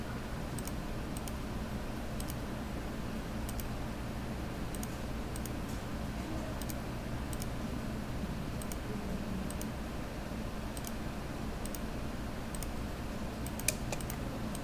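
Computer keyboard keys are pressed during SketchUp modeling work, a quiet series of irregular clicks and taps scattered across the clip over a low background hum.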